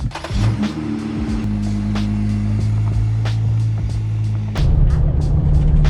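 A Jeep Gladiator with new shocks drives on the road, and its engine hum rises after a gear change. The loud, steady drone and road rumble run throughout, with small knocks and a thump near the end.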